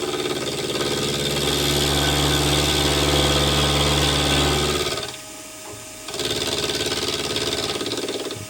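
A milling machine cuts a tooling plate in a workshop, a steady loud whirring hum with cutting noise that drops briefly to near quiet before resuming.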